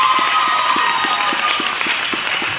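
An audience claps for a team at a lip sync battle event, a steady wash of applause filling the room and holding through the whole stretch.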